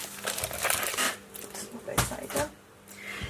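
Delicate, thin paper crinkles and rustles in irregular bursts as it is handled nearby during the unpacking of Stampin' Up! craft products, with a few louder crackles standing out.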